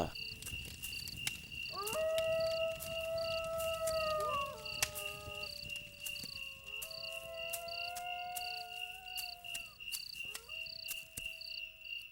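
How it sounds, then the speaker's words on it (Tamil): Jackals howl at night in long, wavering, gliding cries that overlap and then trail off, over a constant high chirring of crickets. "அதான் அது நரிங்க ஊடுற சத்தம்பா"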